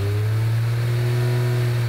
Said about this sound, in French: Le moteur tourne maintenant correctement à tous les régimes